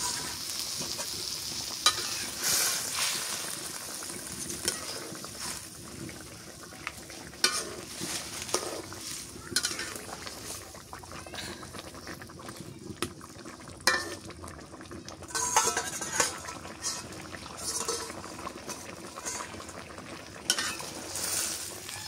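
Small silver carp fish frying in a pan, a continuous close sizzle of hot oil with occasional stirring scrapes and utensil clinks, no talking.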